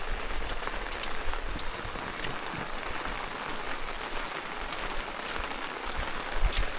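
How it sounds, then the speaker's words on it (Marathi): Monsoon rain pours steadily over Konkan village countryside, a dense, even hiss of drops on surfaces with scattered louder splatters, continuous and moderately loud with no voices. "पाऊस पडतोय तो काय असा तसा नाही"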